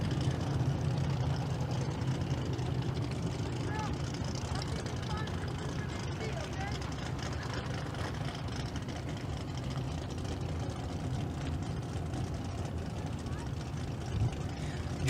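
A 1991 Ford Mustang drag car idles in the lane at a Las Vegas street car drag event, a steady low engine rumble mixed with crowd and track ambience under an announcer's voice.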